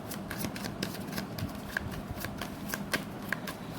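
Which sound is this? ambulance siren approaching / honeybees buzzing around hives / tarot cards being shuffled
tarot cards being shuffled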